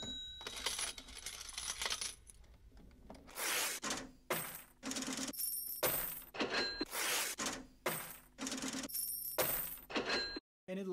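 Coin-and-cash-register sample loop from the intro of a song, played in stereo: loud, rhythmic bursts of clinking, rattling coins and metallic clatter repeating steadily, with no voices.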